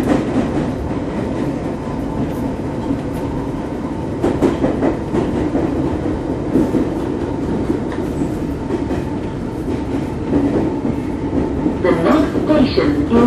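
A London Underground Hammersmith & City Line C Stock train, unit 5572, runs between Bow Road and Whitechapel, its loud continuous rumble carrying steady rhythmic wheel clatter and brief squeals of the wheels from inside the carriage.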